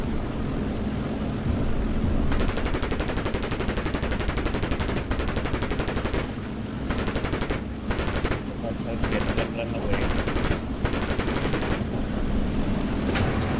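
Enemy gunner fire aimed at an aircraft in a Japanese flight simulator game, a dense continuous rattle of gunfire running throughout with short gaps and bursts in the second half.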